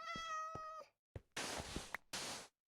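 A Minecraft cat meows a few times in quick succession, close and clear, with short pauses between the calls.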